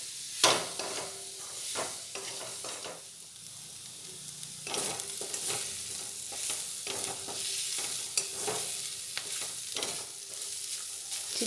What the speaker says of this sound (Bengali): দিয়ে খুব ভালোভাবে কিছুক্ষণ নাড়াচাড়া করে নেব